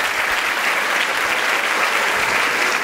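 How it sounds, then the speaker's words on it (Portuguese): A stand-up comedy audience bursts into steady, dense applause, many hands clapping together at a constant level for the whole stretch, with no voices standing out. "Uma salva de palmas pro Paulinho aqui"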